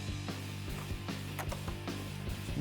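A ratchet turns out the upper grille bolts on a 2015–2017 Ford F-150, giving a steady run of fast, close clicking strokes with no talk.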